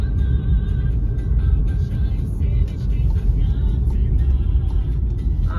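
A car driving along a road near Ukhta in the Komi Republic, a steady low engine and road rumble heard from inside, continuous and fairly loud throughout.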